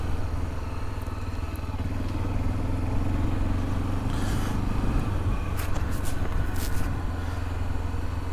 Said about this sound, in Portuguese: passear de moto aqui por essas montanhas